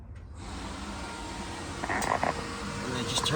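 A motorcycle radiator cooling fan runs with the ignition on and the pump going, giving a steady close whirring rush that grows slightly louder partway through, with no talking.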